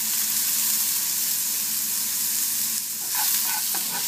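Shrimp sizzling and frying in a hot pan with lime juice, a steady loud crackle close up, with brief stirring scrapes toward the end.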